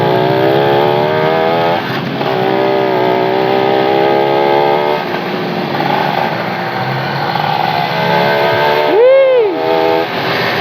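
Yamaha V80 motorcycle being ridden, its engine droning steadily up close with shifting pitch and loud wind rumble, and a short horn-like tone near the end.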